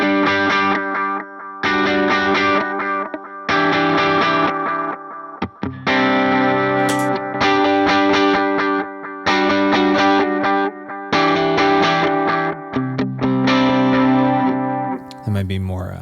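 Electric guitar played through a recreated Nemesis delay patch on an HX Stomp, bright chords in repeated bursts with echoing, modulated tails and slight distortion, loud and continuous.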